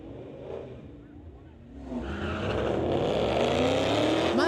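A 2018 Ford Mustang GT drag races another Mustang, engines rising from a quieter idle into a loud, sustained roar of hard acceleration that holds steady to the end, with faint talk early on.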